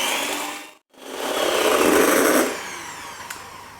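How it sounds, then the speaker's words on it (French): Eggs and sugar are whisked in a bowl, making a steady, loud whirring buzz that cuts out briefly, then returns and fades near the end, with no talking. "je vais fouetter pendant à peu près 30 secondes"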